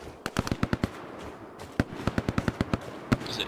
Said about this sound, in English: We got a friendly bombing run coming in.